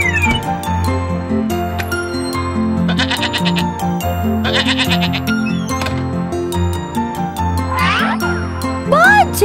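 A cartoon goat bleats repeatedly in a bright children's animal show, its loud wavering calls set over constant cheerful music with jingling tones.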